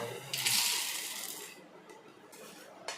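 Roasted peanuts poured into a mixer jar while preparing a chutney make a dense rattling rush for about a second, followed by a few faint clinks.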